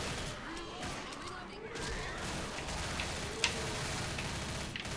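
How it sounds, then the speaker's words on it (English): Rapid gunfire from the Left 4 Dead co-op zombie shooter, dense crackling bursts running continuously at steady loudness with one sharper crack near the end, mixed under game noise and voices. "I'm shooting from this angle"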